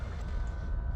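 In MechWarrior 3, a game train gives off a continuous deep rumble. It holds steady and close throughout the short moment, with no voices over it.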